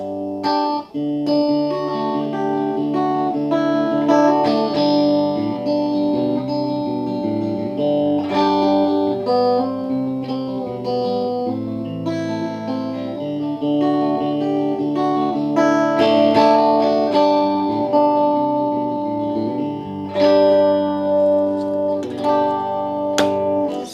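Clean electric guitar, a Gibson SG Modern on its middle pickup position with coil split, plays a continuous run of chords and single notes with crisp attacks and ringing sustain, steady and moderately loud.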